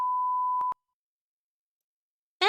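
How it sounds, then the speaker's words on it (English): A steady sine-tone censor bleep, loud and clean, runs for about half a second, then cuts off with two quick clicks and silence, before a short burst of speech at the very end. "let me get my little beep beep"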